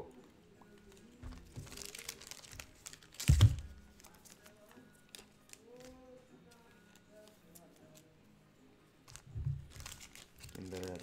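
Trading cards slid into plastic card sleeves at a table, giving soft crinkling plastic rustles and scrapes in quick repeated bursts, with one louder crinkle, all fairly quiet and close.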